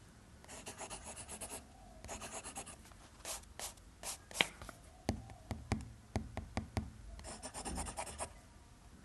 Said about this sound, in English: And this is how paper sounds.